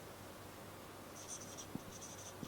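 A pen scratching on paper as an example is written, soft and close, with faint strokes and a couple of light taps over a quiet room hum.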